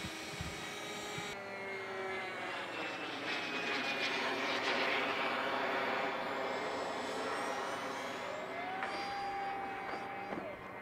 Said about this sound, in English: It's a flying FMA wing with a jet pod